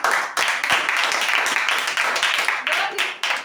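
Audience clapping during a Christmas sermon, a lively burst of hand claps with sharp individual hits, heard close and fairly loud while a voice talks over it.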